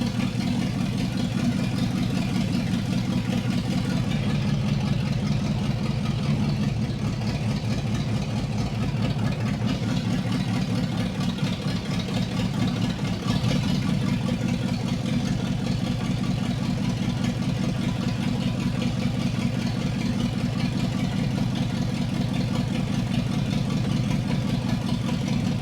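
A 302 V8 petrol engine idles in a garage, a steady low rumble with a fast, even pulsing beat that stays constant and near, with no talk over it.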